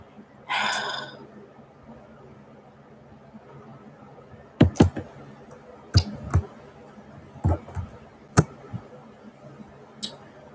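A computer mouse clicks in short sharp bursts, single and double clicks spaced a second or two apart in a quiet room, close to the microphone, with a brief breathy noise at the start.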